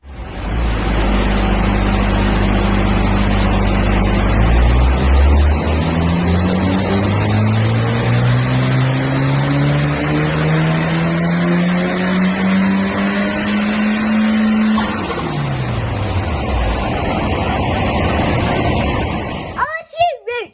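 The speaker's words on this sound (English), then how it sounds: "a little video of it on a dyno doing one of its power runs" A Ford Escort Cosworth roars on a dyno during a power run, its engine note climbing steadily in pitch over many seconds before dropping off abruptly, loud and close, with a voice faintly underneath.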